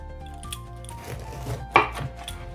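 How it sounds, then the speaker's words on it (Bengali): A young bottle gourd being cut with a knife in a home kitchen, a few soft cuts followed by one sharper, louder chop near the end, with no talking. "তো লাউটা কেটে নেই, দেখো কত কচি লাউ।"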